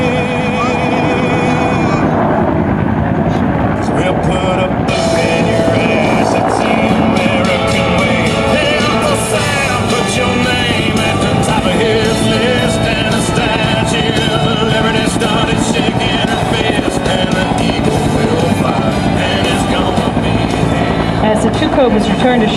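AH-1 Cobra attack helicopters fly at the 2011 Wings Over Wayne airshow, giving a loud, continuous rotor and turbine roar that stays close and steady throughout, with voices faintly present underneath.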